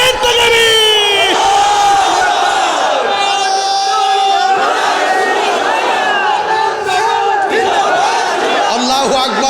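A large crowd at an outdoor religious gathering shouts a loud, sustained chant in unison, voices blending into a dense roar that rises and swells throughout, with no pauses.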